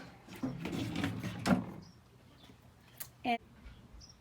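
A single drawer on a DIY coffee bar slides and knocks shut with a short sharp clunk near the end, following a stretch of quiet talk and light handling noises.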